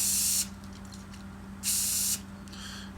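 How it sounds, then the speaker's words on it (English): Barbicide disinfectant is sprayed onto hair clippers in two short hissing bursts, each about half a second long, close and loud over a low steady hum. "spray it, let it sit, take my T outliner right here, spray this as well"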